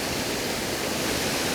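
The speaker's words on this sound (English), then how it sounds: "you just get the trickle of the water coming down into it" Water trickles down into a partly frozen pool, heard as a steady, even wash of falling water with no breaks, fairly close, and no voices.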